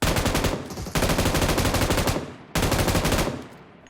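Rapid automatic gunfire in the battle royale game PUBG Mobile on the Erangel map: loud, dense bursts of rattling shots in three long volleys separated by brief gaps, with no talking.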